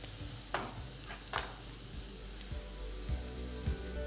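Chopped garlic and ginger fry in oil for a soybean paratha dinner dish, a low sizzle with a few sharp scrapes and taps of stirring, fairly quiet and close.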